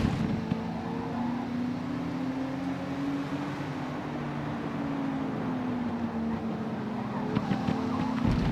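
A Porsche 911 racing around a track in the Forza Motorsport video game, its engine droning steadily with a sustained hum and brief tire noise near the end, no talk over it.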